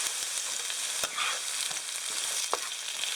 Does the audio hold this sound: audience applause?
no